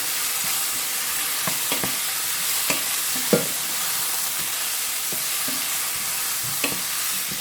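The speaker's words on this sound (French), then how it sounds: "Je mélange le tout bien." Paella ingredients seasoned with black pepper and saffron are stirred in a pan, a steady sizzle under scattered scraping clicks of the spoon at an even, moderate level.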